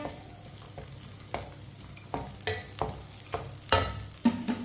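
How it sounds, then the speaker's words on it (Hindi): Semolina halwa roasting in a pan while a spoon stirs it, with a series of distinct scrapes and knocks over a faint sizzle, close and unhurried. "सब चीजों को 2 मिनट के लिए पका लेना है चम्मच चलाते हुए।"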